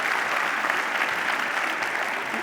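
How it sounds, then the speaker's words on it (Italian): An audience at a regional memorial day ceremony gives President Grasso sustained applause, a thick, even wash of many hands clapping close and loud with no pauses. "Salutiamo il Presidente Grasso con un grande applauso."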